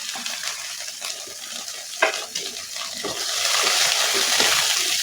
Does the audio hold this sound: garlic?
yes